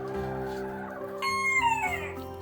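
Bantam chickens cluck and call in short, close bursts while foraging on a farm for powdered feed dumped on the ground, with several overlapping birds and one louder, rising call near the end.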